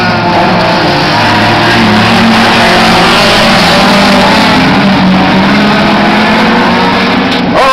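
Race cars roar continuously around a circuit during a men's production car race, with loud, dense engine noise and faint tire squeal, as the field passes close.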